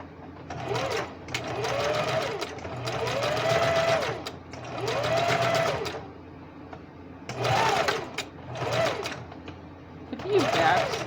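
Sewing machine stitching curved seams on handmade underpants, several bursts of rapid whirring with brief pauses between, close and loud, with a voice talking over it.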